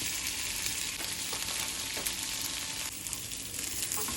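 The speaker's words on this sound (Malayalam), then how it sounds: "കുറച്ചായിട്ട് അത് ഗോൾഡൻ ക്രിസ്പ് ആവുന്ന വരെ നമുക്ക് ഫ്രൈ ചെയ്തെടുക്കാം" Tofu sizzles steadily as it fries in a pan toward golden crispness for a sticky sesame garlic dish, a dense, continuous crackle close by with occasional stirring and no talk.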